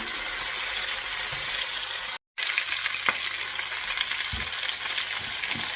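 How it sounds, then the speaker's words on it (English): Chicken pieces frying and browning in a pan, a dense continuous sizzle close up with a few soft knocks as pieces are turned, with a brief gap partway through. "I'm going to start flipping these over because again, I just want them lightly browned on each side."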